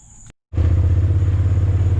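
A Polaris RZR side-by-side starts driving after a brief cut, its engine a loud, close, steady pulsing rumble with no talk.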